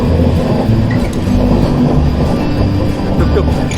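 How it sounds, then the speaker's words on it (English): A train runs on tracks in Kerala with a loud, continuous rumble and a rhythmic clatter of wheels. It is close and steady throughout, with no talk. "the auto rickshaw and the train going at the same speed."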